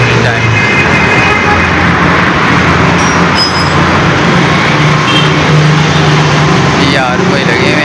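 Steady road traffic noise fills the background continuously, a broad dense roar of passing vehicles, with no clear speech over it.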